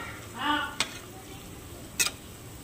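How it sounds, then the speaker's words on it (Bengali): Split pea lentil and poppy seed fritters fry quietly in oil after being turned, a faint hiss with a brief swell early on and two crisp metallic clicks from the flipping utensil. "ডাল পোস্তর বড়াগুলো এবারে উল্টিয়ে দেব, এপার থেকে ওই পারে ভেজে নেব"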